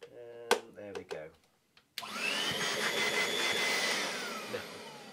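A vintage 1970s Moulinex 250 handheld vacuum cleaner switches on abruptly after a brief stretch of talk, then runs with a loud, steady whooshing roar and a thin motor whine that holds to the end.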